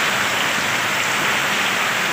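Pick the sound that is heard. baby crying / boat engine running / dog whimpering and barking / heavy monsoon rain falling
heavy monsoon rain falling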